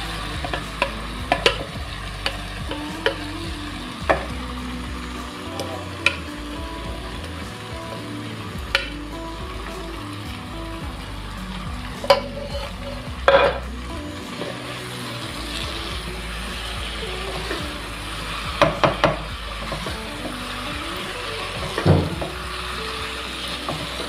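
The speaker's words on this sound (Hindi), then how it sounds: "अब इसको अच्छे तरीके से मैं तकरीबन 5 मिनट जो है ना इसको भून लूँगी तेज़ आंच पे" Okra (bhindi) stir-fried on high flame for a bhindi masala, giving a constant close sizzle with frequent clattering spoon stirs and scrapes against the pan, and no talking.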